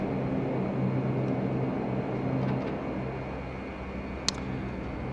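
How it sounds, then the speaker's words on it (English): APU of a Majestic Q400 in a flight simulator runs as a steady, moderate whine and rumble that eases slightly midway, with a single sharp click near the end. "Let's get that APU running"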